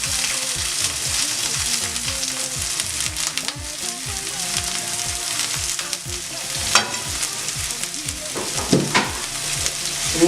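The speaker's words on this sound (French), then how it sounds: "Donc déjà, on va faire revenir les oignons." Onions fry in a pan for a tilapia sauce, giving a loud, steady sizzle and crackle close by, with occasional scraping stirs and clinks throughout.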